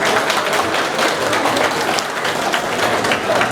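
Wedding guests at a Kyrgyz bride's farewell celebration clap their hands in a steady, dense round of applause that fills the whole stretch, close and loud, with no voices standing out.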